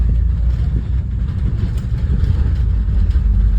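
Steady low engine rumble and road noise inside a moving vehicle, continuous throughout with no voices.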